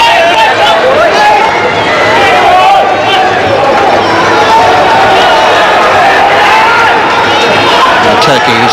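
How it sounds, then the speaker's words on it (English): Loud, dense crowd noise at a hockey match at Milton Keynes, a continuous roar of chatter and cheering filling the whole stretch; individual drumbeats are not clearly distinguishable, and a commentator's voice runs through it. "we have a drummer or two in the crowd. Plenty of noise here."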